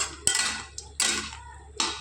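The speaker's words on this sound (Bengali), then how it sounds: "আর এই ভেজে রাখা মাছগুলো দিয়ে দিলাম, দিয়ে একটু নেড়ে ছেড়ে দেবো।" Fried small fish are stirred in a curry pan, with three distinct scraping strokes of a utensil against the metal, close and fairly loud, separated by short pauses.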